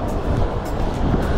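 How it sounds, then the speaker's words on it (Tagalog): Strong wind blowing by the Pasig River near Rockwell, loud steady rushing gusts buffeting the microphone, constant and close with no pauses. "Oh, sarap ng hangin, grabe."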